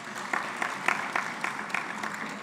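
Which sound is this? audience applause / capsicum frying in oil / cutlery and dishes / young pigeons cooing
audience applause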